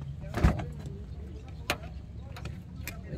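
A Suzuki Hustler's second-row power window runs with a low steady motor hum, marked by a few sharp clicks, close by and fairly quiet, with no talk.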